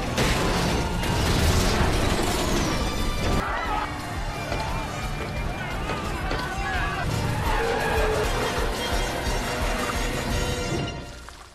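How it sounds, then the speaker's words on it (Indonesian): A truck skidding and grinding to a stop in a James Bond action scene, loud mechanical screeching and rumble mixed with crashing noise and dense film score for about eleven seconds, fading at the end. "Bon yang masih berada di dalam truk berusaha keras menghentikan truk hingga ia berhasil"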